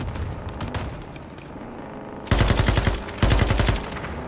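Loud bursts of automatic gunfire from the video game Modern Warfare 2: rapid machine-gun volleys in two heavy clusters after quieter rumbling battle ambience.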